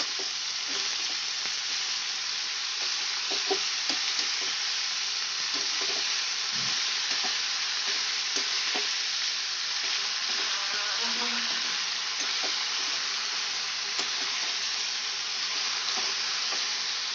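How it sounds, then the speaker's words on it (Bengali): Vegetables, cauliflower stalks with four or five slit green chilies, sizzle steadily in a hot pan while a spoon stirs, scraping and tapping at intervals over the constant frying hiss. "সব সবজিগুলোকে আমি ভালো করে মিক্স করে নেব।"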